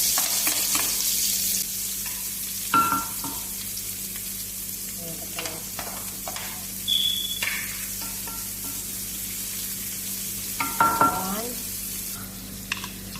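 Onions sizzling in oil in a pan at the start of a fried rice, a steady close frying hiss with occasional scraping stirs and faint clinks, no talking.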